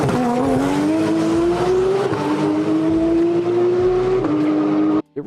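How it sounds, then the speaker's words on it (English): A boosted Porsche 911 GT3 RS engine revs hard and loud nearby, its tuner-car-like pitch climbing through several gear changes before cutting off abruptly at the end. "It really does sound like a tuner car"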